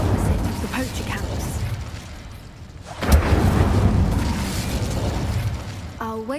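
An Incendio fire spell goes off in Hogwarts Legacy, a sudden whooshing burst and boom mid-clip followed by a roaring rumble, with a voice speaking before and a few tonal chimes near the end.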